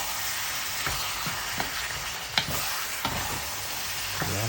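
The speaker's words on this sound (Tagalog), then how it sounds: "At hahaluin lang natin siya ng ayos hanggang sa medyo maluto yung ating chicken." Chicken for sinampalukang manok sizzling steadily in a pan while being stirred, with scrapes and clinks of the utensil against the pan at irregular intervals, close and continuous.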